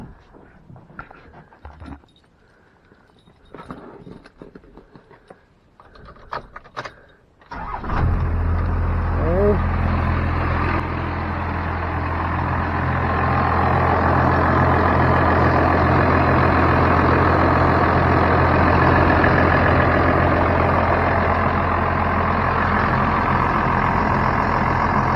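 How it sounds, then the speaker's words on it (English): A first-generation Cummins diesel crew cab truck cranks and fires up after some shuffling and handling noise, then settles into a loud, steady clattering diesel idle that continues without a break. "Okay, let's start it up. You can see the engine running."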